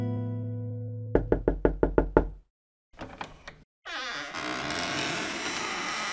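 A door is knocked on with a crisp run of seven evenly spaced raps, followed after a short pause by a few softer knocks, then a burst of loud background sound.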